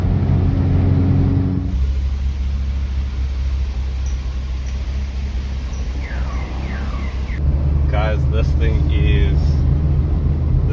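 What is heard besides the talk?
early Mk2 GTI car driving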